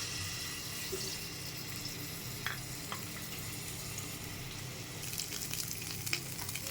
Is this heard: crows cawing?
no